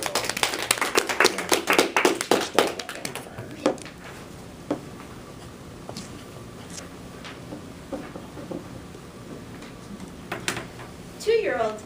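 A small audience at a speaking club meeting claps briefly to welcome a speaker to the podium, dense clapping at first that thins out, followed by quieter room sounds and a voice.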